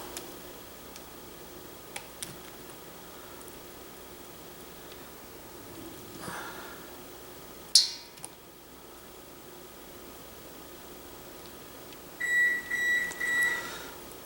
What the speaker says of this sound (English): The beeping was just the oven.